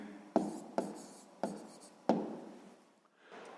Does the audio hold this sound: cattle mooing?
no